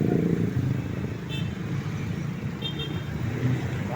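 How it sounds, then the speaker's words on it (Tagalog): Steady road traffic in Dau and Panibago, Pampanga, with cars and motorcycles passing under a constant rumble and a couple of brief high horn toots. "Traffic."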